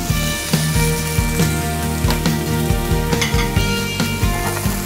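Diced chicken sizzles steadily in olive oil with rosemary and garlic in a pan, a loud, continuous frying hiss broken by regular soft clatters, with no voices.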